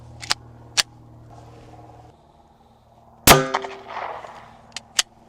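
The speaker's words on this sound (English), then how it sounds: "Glock 19, shooting a 9mm full metal jacket." A single sharp, loud crack from a Glock 19 firing a 9mm full metal jacket round into a tire, ringing briefly, with a few small clicks and knocks around it.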